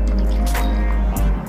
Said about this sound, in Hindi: पानी को थोड़ा थोड़ा करके शामिल करें,